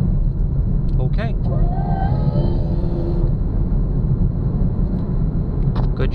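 A 2018 Camaro with the LGX V6 and an Eaton 1.7L supercharger fitted with a whine mod, a loud steady engine rumble close by with a brief rising whine, while a person talks over it.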